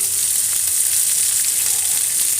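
Drumstick leaves and garlic sauté in a hot pan with salt, producing a loud, continuous crackling sizzle that holds steady from start to finish with no voices.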